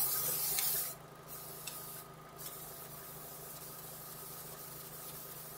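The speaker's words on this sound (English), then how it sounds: "What I might do first of all though is just have a spray around here, see if I can see a vacuum leak or anything crazy like that." Aerosol spray hisses loudly for about a second around the engine bay of an idling Vauxhall Tigra, then two shorter bursts follow while the engine keeps up a steady low drone.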